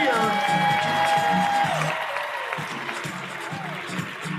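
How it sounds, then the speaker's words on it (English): Crowd applause and some cheering ring out at a Babe Ruth League all-star baseball opening ceremony, a steady wash of clapping under someone speaking over a PA system. "how about a round of applause for all of our teams that are with us this"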